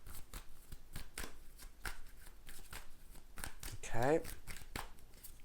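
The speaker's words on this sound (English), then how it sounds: "I'm just going to shuffle these tarot cards" Tarot cards shuffled by hand in quick, light riffling bursts, with a brief louder riffle near the end, under a voice speaking.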